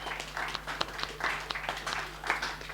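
A church congregation claps and cheers for the Loaves and Fishes volunteers, a steady wash of applause with scattered louder claps and whoops running through the whole stretch.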